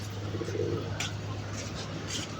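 Several pigeons coo softly and steadily at close range, a low murmuring drone running through the whole stretch, with a few faint rustles and brief higher chirps over it and no talking.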